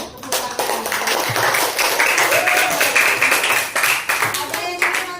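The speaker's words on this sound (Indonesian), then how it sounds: "Kita beri tepuk tangan." Classroom applause after a student group's presentation, a burst of scattered hand clapping that swells and then fades over a few seconds, with some voices mixed in.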